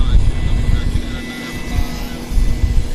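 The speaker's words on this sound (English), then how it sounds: "Phenom, I don't know what type of aircraft that is." A Phenom business jet at Vancouver Airport makes a loud low engine rumble that holds steady and close, with someone speaking over it.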